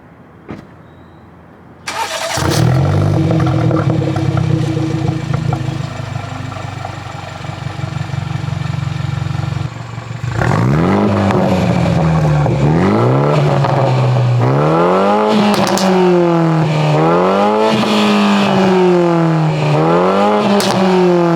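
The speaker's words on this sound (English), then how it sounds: "give you guys a warm start, wait for the needle to drop so it idles, and then I'm gonna rev it a little bit" A BMW 330i with muffler and resonator delete starts warm with a loud crank and catch, settles into a steady idle, then gets several rising and falling revs with pops, close and loud.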